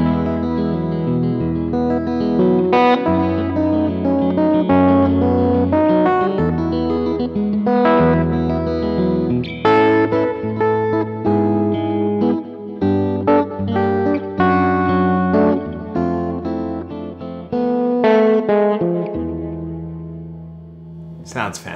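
Clean electric guitar chords through a Milkman Sounds Amp Stereo with stereo reverb and delay, a flowing sequence of strummed and arpeggiated chords with echoing tails, loud and continuous for about twenty seconds.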